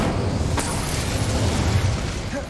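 A fire spell, Incendio, is cast in the Hogwarts Legacy video game, giving a sustained low roaring burst with a sharp flare near the start that carries steadily through the whole moment with no talking.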